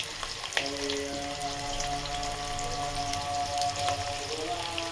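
Onions, green chillies and cabbage fry together in a pan for a homemade Manchurian, making a continuous moderate sizzle with a faint tonal hum underneath and no talking.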